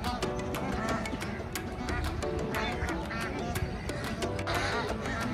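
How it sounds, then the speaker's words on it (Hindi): Migratory ducks or geese at the India-Pakistan border call continuously as a dense flock, with overlapping quacks and honks over a busy outdoor background. "ये जो बर्ड्स देख रहे हो ये आपके मार्च के एंड में इंडिया से वापस अपने देश के लिए निकल जाते हैं"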